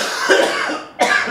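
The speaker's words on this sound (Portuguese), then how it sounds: "É um acesso de tosse." A coughing fit from a man during a conversation about kettlebell sport, two strong rasping bursts close to the mic with a short pause between them.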